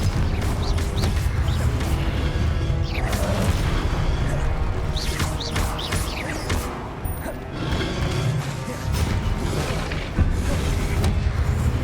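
Confringo explosive spell blasts in the video game Hogwarts Legacy, loud booming crashes and bursts repeating over dense continuous battle noise, with no speech.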